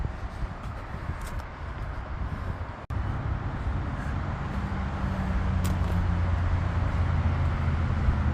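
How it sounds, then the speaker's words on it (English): Steady road traffic along Route 322 beside a canal, a continuous broad rumble and hiss of passing vehicles at moderate distance, with a brief dropout and then a slightly heavier engine drone from a nearer vehicle. "it's kind of high, kind of loud with the traffic along 322"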